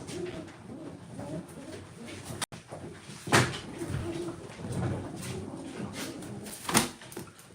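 Pigeons cooing inside a loft, soft repeated coos close by with a sharp knock partway through and some faint background voices.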